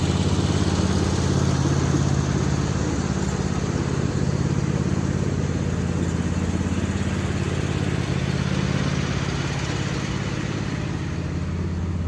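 A small red tractor's engine runs steadily outdoors, a continuous low droning rumble at constant loudness with no talking.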